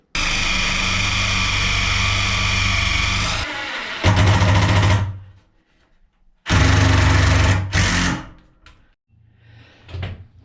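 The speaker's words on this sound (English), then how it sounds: "I'm going to drill this side out now." A power drill drives into wooden window trim inside a tiny log cabin, running in a long steady whine, then two shorter loud bursts separated by near silence, close and without talk.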